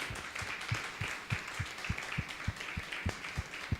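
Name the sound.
church congregation applauding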